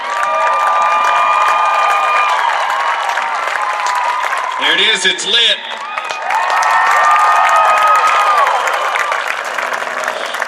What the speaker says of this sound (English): Continue to cheer him on.